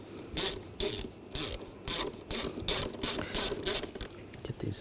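A ratchet snugs down the ignition coil screws on a 2007-2013 BMW X5 3.0L inline-six, close up. About nine quick, regular bursts of clicking follow one another with short pauses between them, and no talk.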